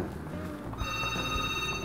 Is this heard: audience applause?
no